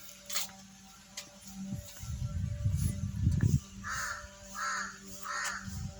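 A jungle crow in the forest of Mount Harriet National Park near Port Blair, giving a few separate harsh caws at moderate distance over faint low rumbles and light ambient noise.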